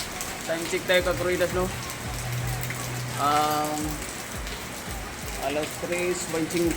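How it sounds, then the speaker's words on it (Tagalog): Heavy rain drums in a dense, steady hiss on a roof during a check for ceiling leaks, continuing under a man's speech and brief bursts of nearby voices. "Lakas ng ulan"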